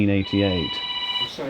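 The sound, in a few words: mobile phone ringing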